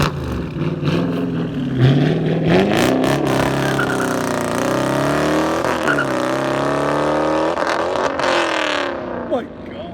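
A 2016 Dodge Challenger R/T with its 5.7L HEMI V8 and loud aftermarket exhaust revs hard and close, the engine note rising and falling in a sustained, throaty roar for nearly ten seconds.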